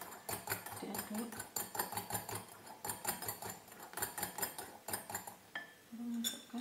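Cake batter for a steamed zebra sponge cake being whisked in a bowl, a rapid rhythmic series of close scraping clinks repeating steadily, with someone talking over it.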